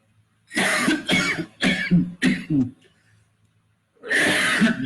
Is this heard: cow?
no